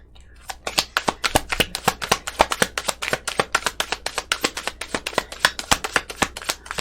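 Tarot or oracle cards being shuffled for a reading, a rapid run of crisp, close riffling snaps in an even rhythm over a faint background hum, without talk.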